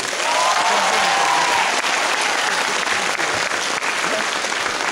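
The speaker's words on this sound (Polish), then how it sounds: "poprosimy jeszcze raz wielkie brawa." Loud, dense applause from a contest audience rewarding performers, a continuous wash of clapping with a brief whistle or cheer near the start, heard without talk.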